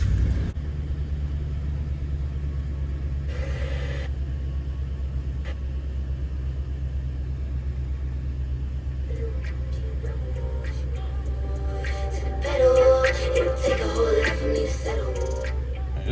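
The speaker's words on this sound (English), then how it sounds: "Let's see if the truck starts." A 2014–2019 Toyota Tundra SR5 pickup engine idles steadily with a deep, constant low rumble throughout, with some clicks and rattles from inside the cab toward the end.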